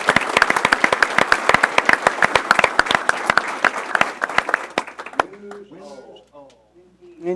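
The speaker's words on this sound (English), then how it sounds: "One more round of applause for all the teachers who are attending." Crisp round of clapping from an audience at a school board meeting honoring attending teachers, loud and fairly close for about five seconds, then stopping as a voice speaks.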